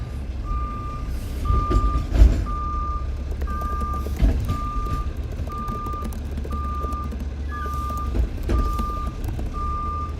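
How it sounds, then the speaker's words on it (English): A garbage truck's reversing alarm beeps in a steady, evenly spaced series, loud and close, alongside truck engine rumble and occasional clanks and thuds. "Maybe you guys want to hear the loud beeping of the truck and all the slamming of the trash cans here in a second."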